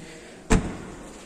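The trunk lid of a 2021 Audi A3 Sedan is shut, giving one solid, close thud that fades quickly over a quiet background.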